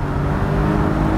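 A Porsche Boxster's engine revs loudly and close during a rev-matched downshift into second gear, giving a short, dense, continuous roar.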